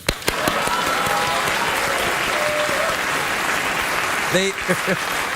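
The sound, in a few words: studio audience applause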